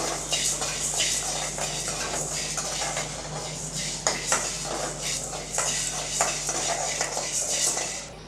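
Ingredients for tamarind rice dry-roasting in a pan, stirred continuously, with steady scraping and rustling plus a faint sizzle throughout, close and moderately loud with no talking.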